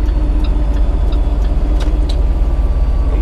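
Heavy truck on a 4–6% downgrade with the engine brake fully engaged, a loud, steady low rumble with rapid pulsing throughout, and a few faint clicks on top.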